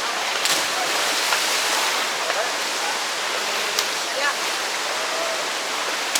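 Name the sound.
Kawasan waterfall rushing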